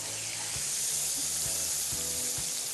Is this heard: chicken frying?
yes